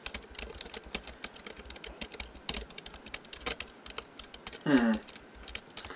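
Rapid typing on a computer keyboard, a dense run of quick, fairly quiet key clicks, with a brief murmur from a voice.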